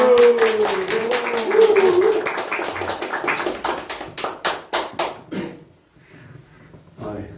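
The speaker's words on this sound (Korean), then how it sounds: "박수 부탁드립니다" Applause from an audience at a Korean political talk event, welcoming a retired lieutenant general to the stage: a run of claps under a voice that talks over the first half, then thinning into isolated claps before fading.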